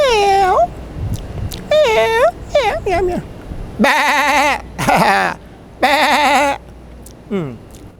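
A human voice imitates a cat's meowing and a goat's bleating in a series of loud, drawn-out calls, alternating meows and bleats with short gaps between them.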